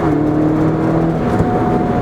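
A Mini Cooper GP, a small front-wheel-drive hot hatch, accelerates hard with a loud, steady engine drone heard from close by inside the car, with no voices over it.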